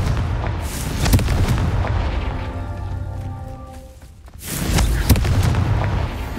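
Confringo spell blasts in Hogwarts Legacy: a loud booming explosion opens the clip, the rumble decays with a lingering tonal ring, then a second heavy blast erupts near the end.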